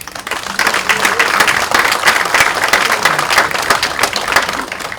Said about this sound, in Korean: 차분하게 우리 원내를 잘 이끌어 주시는 우상호 원내대표님 더 힘내시라고 여러분 박수 한번 보내주십시오.